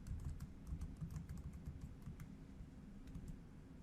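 Soft, steady keystrokes on a computer keyboard as a password is typed, quiet and close with no voices.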